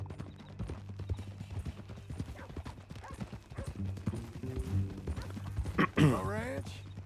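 Horse hooves clip-clop in a steady rhythm on a ground surface in the video game Red Dead Redemption 2, running under conversation between characters, with a brief louder voice near the end.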